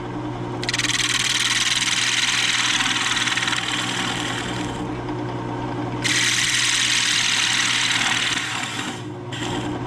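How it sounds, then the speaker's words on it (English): A wood lathe spins a scrap piece while a bowl gouge flattens it, a steady motor hum under loud hissing cuts that come in two long passes with a brief lull between. "I'm gonna start off with my bowl gouge just to flatten the whole piece"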